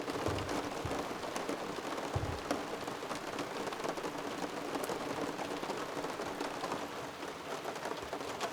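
Steady rain pours onto a cabin porch during a thunderstorm at night, a dense, continuous patter close by with occasional louder drips and no voices.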